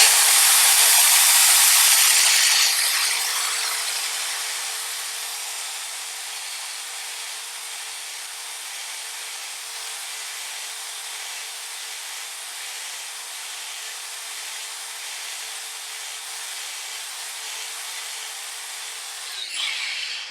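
Power tool trimming a new rubber pad for a floor jack, a steady loud whirring grind that starts strongest, eases to a sustained lower hum and ends with a brief clunk.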